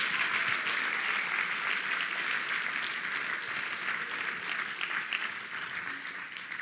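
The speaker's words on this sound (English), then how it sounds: "Give them a round of applause," Sustained audience applause at a charity gala auction, dense and steady clapping from a large crowd filling the whole stretch without pause.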